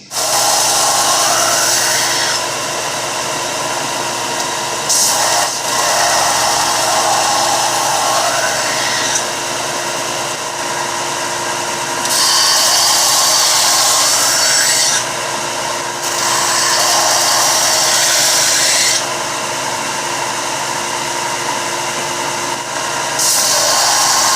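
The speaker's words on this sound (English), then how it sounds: "Okay, now we just need to sand it and give it its final sharpen, and the knife will be finished." A heat-treated railroad spike knife blade being sanded, a loud continuous high whirring grind that runs steadily throughout, with short pauses and changes in pitch as the blade is repositioned.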